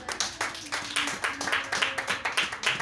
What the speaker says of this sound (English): A round of applause for Jesus.